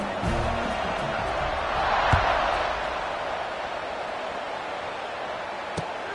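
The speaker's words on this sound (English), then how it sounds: "this crowd is buzzing after that last score" A stadium crowd at an Oregon football game gives off a steady, broad buzz of many distant voices, swelling briefly near the middle, with faint thumps over the constant murmur.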